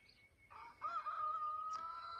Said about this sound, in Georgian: მამალი გამოვიდა აქეთ.